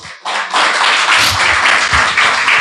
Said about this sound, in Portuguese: Você pode aplaudir a Jesus nesta noite?